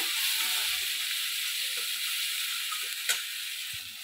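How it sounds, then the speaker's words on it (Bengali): Garlic paste fries in oil in a pan for a Bengali mixed fish curry, making a steady hissing sizzle with a few faint clicks and one brief sharper crackle near the end, with no voices. "রসুন বাটাটা আমি দিয়ে দিলাম, দিয়ে রসুনটা আমি ভালো করে এটা ভেজে নেব।"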